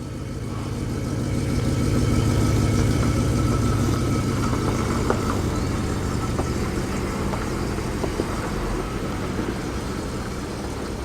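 Classic cars, a Jensen and an MGB, run and pull away from a pre-1990 car meet, a steady mid-pitched engine rumble with outdoor background noise and no talk.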